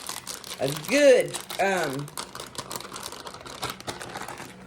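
Plastic bags of shredded mozzarella and Mexican blend cheese crinkle and crumple close by in busy, uneven bursts, mixed with a man's speech.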